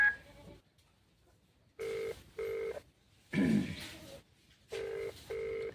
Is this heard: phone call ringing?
yes